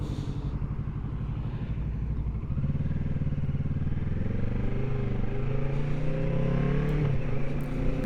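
A motorcycle engine runs close by with a low throbbing drone, its pitch climbing, dropping briefly and climbing again as the rider shifts up through the gears toward the highest gear, steady and loud with no talking.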